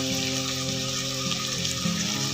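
Chicken pieces frying in a pan for a matar chicken recipe, a steady close sizzle holding at an even level with no talk.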